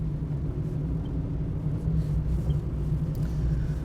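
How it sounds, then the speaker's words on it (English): Car driving on a wet road in rural Cornwall, a steady low rumble of the engine and tyre noise from inside the vehicle, constant and unbroken with no talk. "God, these cars sound weird in the wet."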